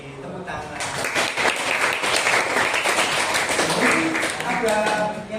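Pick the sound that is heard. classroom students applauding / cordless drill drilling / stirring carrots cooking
classroom students applauding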